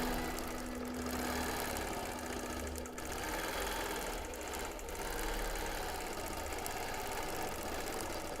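A long arm quilting machine stitches a free-motion quilting pattern with a faint, steady, fast mechanical whir and hum that runs continuously without speech.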